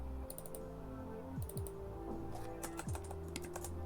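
Fingers type text on a computer keyboard in MS Word, giving a quiet run of quick, irregular key clicks with a few brief gaps.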